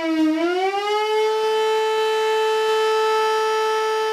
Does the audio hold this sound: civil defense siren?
yes